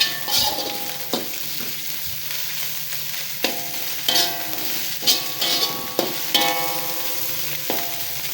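Noodles fry in a little butter in a wok, giving a steady hiss of sizzling broken by repeated sharp scrapes and clacks of a stirring utensil at uneven intervals, close and without voices.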